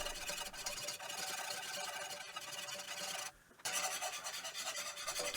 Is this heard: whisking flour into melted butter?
yes